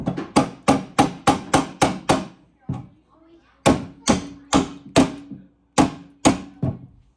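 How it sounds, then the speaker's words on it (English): A rubber mallet drives fasteners while a RipRow v2 base-model rowing machine is assembled, striking in a close, loud series of sharp, evenly spaced blows, pausing briefly, then hammering out two more rapid runs. "The rubber mallet wins, doesn't it?"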